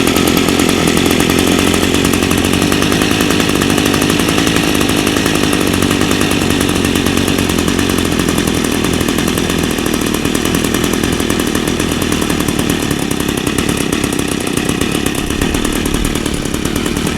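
A gas weed eater (string trimmer) engine runs steadily and loud up close, a continuous buzzing drone that holds without a break or change in pitch throughout.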